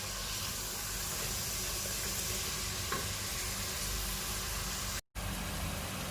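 Chicken sizzles loudly in a hot pan with salt, a dense, continuous frying hiss that stays close and steady throughout, broken only by a brief cut of silence near the end.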